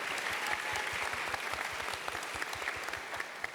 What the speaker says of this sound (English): How about another round of applause for the Garrett Center?